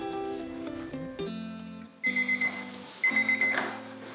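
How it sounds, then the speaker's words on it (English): A beauty-salon timer alarm goes off during a lash lift, a loud, close electronic beeping in quick pulsed bursts with short pauses between groups, alone with no talk. "So once your timer has gone off"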